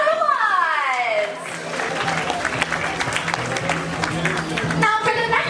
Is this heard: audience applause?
yes